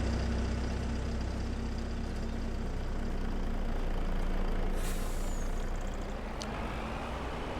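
A lorry in the Farming Simulator 25 video game idles with a steady heavy diesel rumble, then gives a short hiss of air brake release near the end, loud and continuous.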